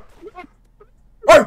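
A person imitates a dog, giving a couple of short, faint yips followed by one loud, close bark-like shout at the end.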